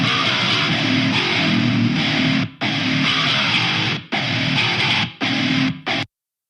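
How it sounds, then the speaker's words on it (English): Heavily distorted guitar in drop D, pitched down an octave and built from separately recorded note samples, plays dense sustained chugs broken by several abrupt stops and a sudden cutoff. "So it's a guitar in drop D,"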